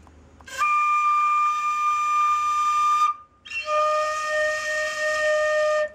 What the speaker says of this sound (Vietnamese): nó đẩy ra mạnh thì nó sẽ làm cho tiếng tiếng sáo nó kêu to hơn và rõ hơn